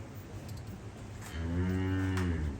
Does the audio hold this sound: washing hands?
no